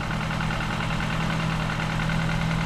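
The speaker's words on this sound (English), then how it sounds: "Oh, engine's running." A Ford Fiesta 1.25 mk7 engine, freshly swapped in after flood damage, runs at a steady idle with a constant low hum and faint mechanical whir, moderately quiet and unbroken throughout.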